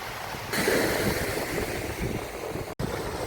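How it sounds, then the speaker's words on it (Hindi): Wind rushes hard across the microphone at the seashore in Fort Kochi, Kerala, a loud continuous roaring buffet with a brief dropout near the end. "हवाएं चल रही है समुद्र के किनारे"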